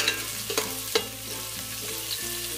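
Garlic, ginger and onion sauté in a pan with a steady low sizzle, broken by a few sharp stirring clinks and scrapes of a utensil against the metal, fairly close with no talking.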